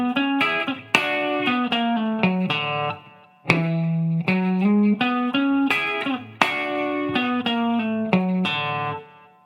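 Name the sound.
country hybrid-picking guitar lick with distortion, played slowly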